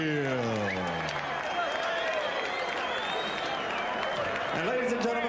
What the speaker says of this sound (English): The crowd appreciating the efforts of Alex Stewart.